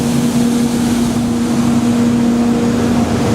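A Douglas WR-1500 tunnel washer runs through its recirculating wash and sanitizing rinse sections, a loud, unbroken mechanical hum with a steady drone and rushing wash noise, and no speech.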